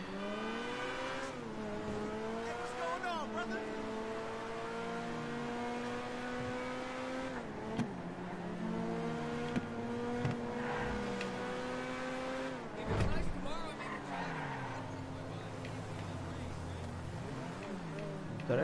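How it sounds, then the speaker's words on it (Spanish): Car engine in the GTA video game revving through rising and falling gear sweeps, with brief tire squeals, continuous and close under someone talking. "este coche como anda, eh"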